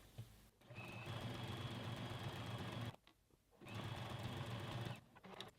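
Sewing machine stitching the front and back of a dolman top together, running in two steady bursts of rapid mechanical whirring with a brief pause between them, close and clear.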